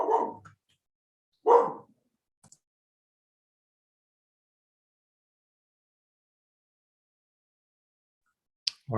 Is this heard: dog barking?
yes